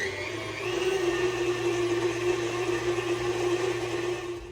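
An electric mixer whips chocolate whoopie pie filling with a steady, loud, unbroken motor whine that holds for several seconds with no talking.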